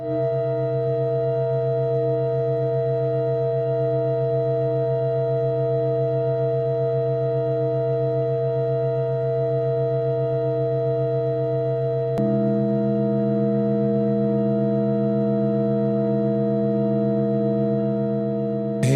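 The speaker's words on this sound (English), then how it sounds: "So first we heard 5 tones, 5 notes, and then it changed to 7" A sustained steady chord of five pure tones that shifts partway through to a fuller seven-note chord, continuous and unchanging in loudness.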